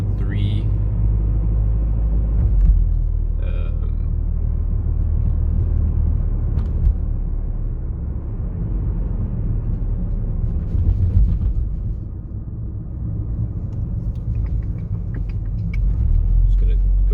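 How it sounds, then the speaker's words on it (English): A Mazda 3 hatchback on the road: a steady, loud engine and road rumble fills the cabin throughout, with a few faint clicks and creaks over it and a person talking at times. "So yeah, here's driving the Mazda 3."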